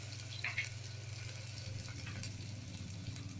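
Ginger garlic paste frying in hot oil with mustard seeds and whole spices for Maharashtrian masale bhat, giving a soft, steady sizzle over a low continuous hum.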